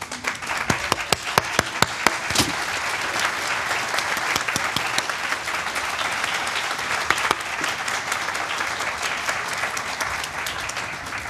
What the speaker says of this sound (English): everybody join me in a round of applause for these people